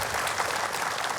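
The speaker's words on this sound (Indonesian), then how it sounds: "boleh tepuk tangan sekali lagi" An audience of women at a televised religious talk show breaks into dense, steady applause, a continuous wash of many hands clapping at once, fairly loud and without pause.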